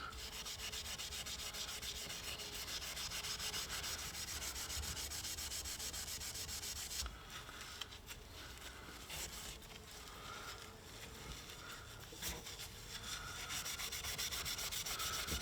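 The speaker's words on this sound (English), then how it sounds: "We just want it to get rid of the rust and the bit of the pitting." Steady abrasive rubbing and sanding as rust and light pitting are worked off the metal of a BSA Cadet Major air rifle, a continuous close scrubbing that runs the whole time, with a brief change in texture partway through.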